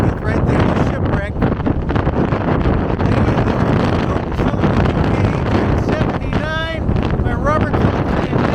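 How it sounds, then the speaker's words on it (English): Strong, loud wind buffets the microphone continuously at the Lady Elizabeth shipwreck in Stanley, Falkland Islands, a dense roaring gust noise throughout, with a person talking briefly over it. "Oh my God, the wind is horrendous."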